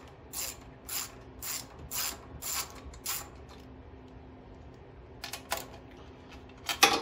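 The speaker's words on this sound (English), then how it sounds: "now we'll go ahead and remove the two nuts here holding on the back cover" Metallic ratcheting from a hand tool loosening the two nuts on the back cover of a Powerhorse 9000ES generator, several bursts of rapid clicks spaced about a second apart, then a pause and a few more near the end.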